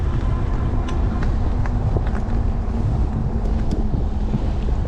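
Strong headwind roaring across the microphone on an e-bike ride in heavy wind, a loud, continuous buffeting rush with no pauses and no talking.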